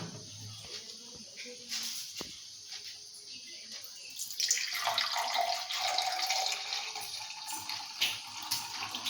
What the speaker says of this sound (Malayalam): നമുക്ക് കപ്പിലേക്ക് ഇത് ഒഴിച്ചു കൊടുക്കാം